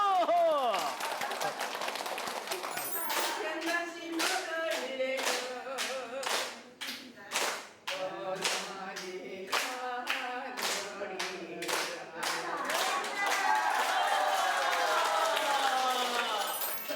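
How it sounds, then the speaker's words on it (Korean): Seniors clap together at a village community center for the elderly in Changwon, a run of sharp hand claps in steady rhythm, fairly near, with voices and music-like tones around them. "박수!"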